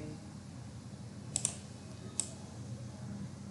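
A computer mouse clicks on a checkbox, giving three short, faint clicks, two close together and one a moment later, over quiet room hiss.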